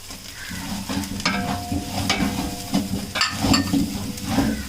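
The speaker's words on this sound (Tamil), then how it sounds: "இப்போ இஞ்சி பூண்டு பேஸ்ட்டு நல்லா வதங்கிடுச்சு, ப்ரௌன் ஆயிடுச்சு" Ginger garlic paste that has turned brown fries in oil in a pan for a vegetable biryani, with a steady sizzle and intermittent scraping and clinks of a spoon stirring against the metal.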